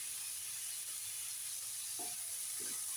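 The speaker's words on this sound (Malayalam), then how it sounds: "മിക്സ് ചെയ്യുക. നല്ലോണം മിക്സ് ചെയ്യുക." Green chilli, curry leaves and salt are stirred together in a pan, with a soft continuous sizzle and hiss and two short spoon scrapes near the end, quiet and without any talking.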